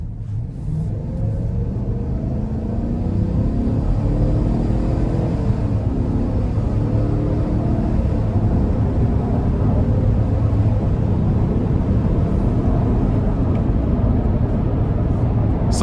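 A 2025 GMC Yukon Elevation with a ten-speed automatic pulls hard under full throttle, a steady deep engine rumble and drone filling the cabin throughout without any letup.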